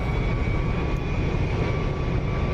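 A jet aircraft engine roars in the flight simulator game DCS, an F-22 and Su-27 air combat setting, a steady broad rumble with a faint high whine, constant and loud throughout.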